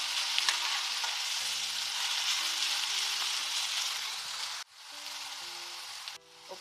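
Boiled eggs fry in a pan before going into an egg and chicken curry, producing a strong, continuous sizzle with occasional stirring scrapes and tonal clinks, briefly dipping twice near the end, with no talk.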